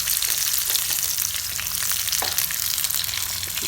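Red chillies, garlic, onion and ginger sizzle loudly in a hot pan for Nepali chicken choila, a dense crackling fry with brief stirring scrapes, close up and without speech.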